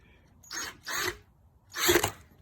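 Three short bursts of grinding, rasping drilling as a drill drives a screw into a 2018 Honda Goldwing motorcycle tire, the first two close together and the third after a pause, loud and close, no talking.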